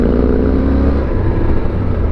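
Harley-Davidson motorcycle engine roaring loudly and close while leaning through corners, a dense low throb that eases and swells as the throttle changes over two seconds; no voices.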